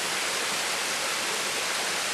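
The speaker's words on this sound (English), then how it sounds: "Looks like we've got a bit of a stream here. Water goes down there." A small stream beside statues rushes in a steady, even hiss of flowing water, constant and fairly loud, with no voices.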